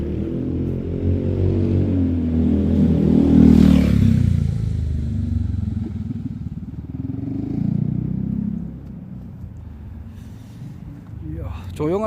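A delivery motorcycle passes near a quiet apartment, its engine rumbling and swelling to a peak before fading, heard under someone talking close by throughout.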